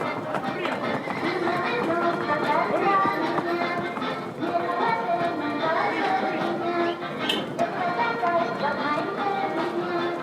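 Horses at a traditional Spanish horse fair being led back to the meadows, with hooves clip-clopping and occasional whinnies among a steady crowd and narration bed.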